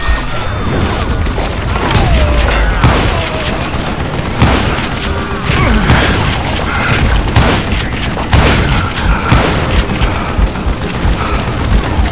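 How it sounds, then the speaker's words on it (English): A sustained, loud barrage of gunfire and booming impacts in the western shooter Call of Juarez: Gunslinger, with dense overlapping shots and crashes throughout. "a fusillade of bullets come raining down from on high"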